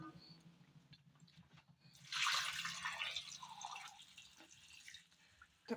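Water pours in a bright, splashing stream for a couple of seconds into a cooker holding broken wheat, then trickles and drips quietly into the vessel nearby.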